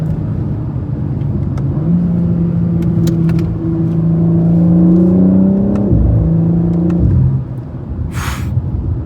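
A BMW G82 M4 Competition engine drones steadily with rising and falling revs on a canyon road, then the pitch drops sharply as the throttle lifts, followed by a brief whoosh.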